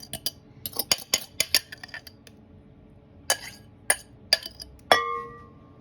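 Banana and whiskey are stirred into cake batter in a bowl, a sequence of sharp clinks and taps of a utensil against the dish in irregular clusters, close and fairly quiet, ending on a ringing knock.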